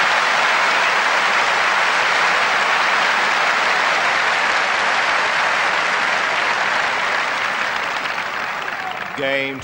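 Loud, sustained crowd applause fills a Wimbledon grass-court crowd at a women's semifinal tennis match, a dense wash of clapping that carries on steadily and begins to thin near the end.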